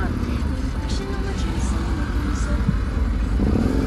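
A motorcycle rides along a road in Rishikesh, its mid-pitched engine revving over steady wind and road noise, with people talking over it at times.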